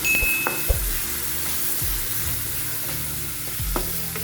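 Chopped onions fry in a pan for a bhindi masala, a steady close sizzle with a few stirring scrapes and clunks spread through it. No one speaks.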